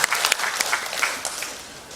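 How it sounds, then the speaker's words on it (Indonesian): Brief applause from a gathering honouring village heads at a Bulan Bung Karno event in Bali, a scattered round of claps that fades within two seconds. "Tepuk tangan untuk para kepala desa kita."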